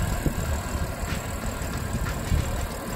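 A BMW M2 Competition with its S55 engine idles steadily, a low continuous rumble with slight irregular pulses and no talk.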